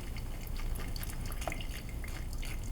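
Watermelon juice drips and trickles through a strainer into a jug, a close, steady liquid patter with scattered drops.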